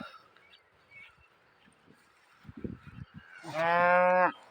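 A few soft thuds and rustles in a quiet outdoor setting near the ancient fortress town of Targim, Ingushetia, then a loud, close moo from a bull sounds once near the end.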